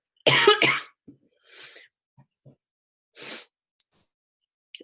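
A harsh double cough up close, followed by a few quieter throat-clearing sounds and breaths amid silence.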